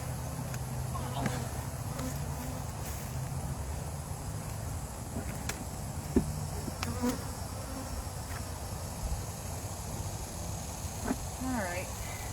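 Honey bees buzz steadily around an open hive. The hum is soft and continuous, with faint buzzes passing close now and then, and quiet talk or handling sounds mixed in.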